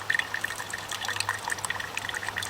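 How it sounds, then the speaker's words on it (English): Water squeezed from a Sawyer Mini filter into a water bottle makes a soft, steady trickle with light splashing, close by for a few seconds. "I squeeze it into my water bottles I have. That's how I refill my water bottles."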